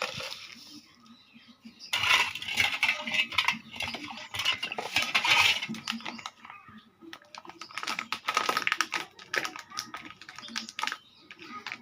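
A spoon stirs Tang drink mix and sugar in a glass, with quick clinking taps against the sides in several bursts, close and fairly loud, and faint talk in the background.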